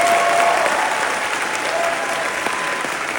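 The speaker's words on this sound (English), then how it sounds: "could we get a round of applause for that cast in this film," An audience applauds the cast of a film at a Tribeca Festival 2025 screening, with sustained, dense clapping that fills the room from start to finish and no speech over it.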